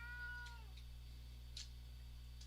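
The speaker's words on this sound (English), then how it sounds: "I hear a cat. Yep, that's my cat." A hungry house cat gives a single faint, falling meow at home, heard once at a distance over a steady electrical hum, followed by a few soft ticks.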